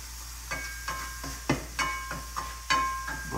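Tofu sizzles in a pan with a little soy sauce, a steady soft frying hiss broken by rhythmic scraping and stirring clicks about every half second, close and fairly quiet.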